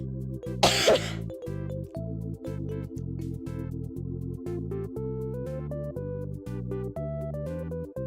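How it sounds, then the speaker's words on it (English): One short, dry cough from a person streaming a Pokemon Legends Arceus game, a single sharp burst close to the microphone over steady, rhythmic background game music. "I just have a cough."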